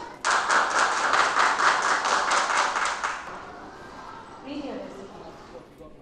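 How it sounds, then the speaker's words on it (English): Clapping in a classroom, a short burst of brisk, rhythmic group hand claps that stops after about three seconds, followed by quieter room sounds and faint voices. "Everybody please clap for Piyush."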